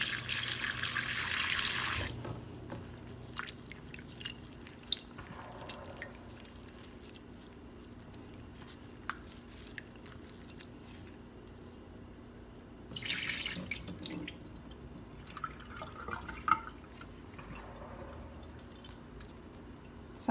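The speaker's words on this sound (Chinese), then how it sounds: "用清水给它洗一下。" Preserved sweet radish rinsed under a running kitchen tap, with a louder gush of water at the start and again midway, and quieter trickling, splashing and handling sounds in between.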